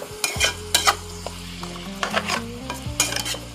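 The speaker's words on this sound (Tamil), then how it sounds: "இதை கலந்து விடுங்க, வதங்கட்டும்" Onions and spices sautéing in a pan for a mutton kabsa, sizzling steadily under repeated stirring scrapes and light utensil clinks, close and fairly loud, with a low hum in the background and no voices.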